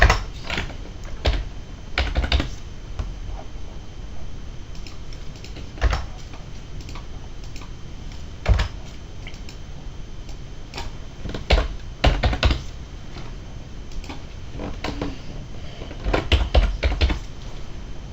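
Fast bursts of keystrokes on a computer keyboard, close and crisp, with uneven pauses and a few louder thumps between runs of typing, no voices.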